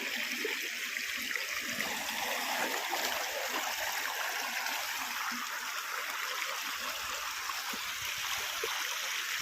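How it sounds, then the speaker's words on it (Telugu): Steady, gentle rush of the Chitravati river flowing at moderate volume over stones, a continuous soft babble with no voices. "మా చిత్రావతి ఏరు ఎంత బాగా పాడుతుందో చూడండి"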